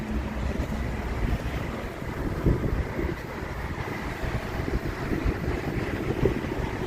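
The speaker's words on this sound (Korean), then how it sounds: "바람이 좀 불어." Steady wind rushes and buffets the microphone outdoors in poor weather, a continuous low roar with gusty swells and no voices.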